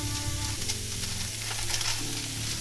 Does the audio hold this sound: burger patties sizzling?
yes